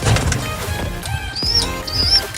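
Bird wings flap in a few quick bursts close by, mixed with short high chirps over a noisy outdoor background.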